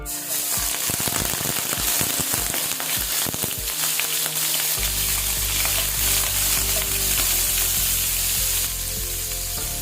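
Shrimp frying in hot cooking oil for chop suey, a loud, steady sizzle with crackling pops and stirring clatter early on, settling into a dense continuous hiss with no voices.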